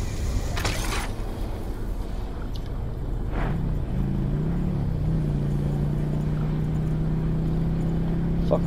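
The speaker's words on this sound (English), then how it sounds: "I'm gonna get that four-wheeler." Four-wheeler engine in Black Ops 4: a steady droning motor hum that shifts pitch as it revs and then settles into an even tone, heard beneath constant game noise and a couple of faint sharp cracks.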